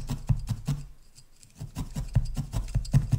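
A barbed felting needle jabs wool over a tobacco tin in quick rhythmic bursts of soft, dull pokes, with a short pause midway and no talking.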